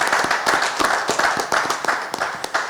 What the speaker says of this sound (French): Applaudissez pour lui également.